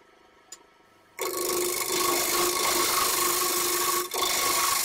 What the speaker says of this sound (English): I fit blanked in screw jack and use a 3/8 inch bawl gouge to true up the blank